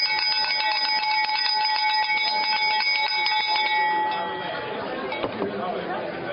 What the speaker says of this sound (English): Wow, I really thought the bell would help.